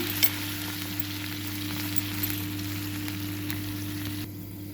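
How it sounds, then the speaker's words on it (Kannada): A moong dal and millet mixture with water simmers in a pot, giving a steady, soft bubbling and crackle throughout with no voices over it. "ಈಗ ಚೆನ್ನಾಗಿ ಕುದೀತಾ ಇದೆ"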